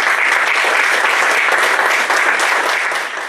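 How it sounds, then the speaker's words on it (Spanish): An audience at an aquaculture conference on trout farming gives a loud, sustained round of applause, a thick even roar of clapping that holds steady and only eases slightly toward the end. "Lo recibimos con un fuerte aplauso."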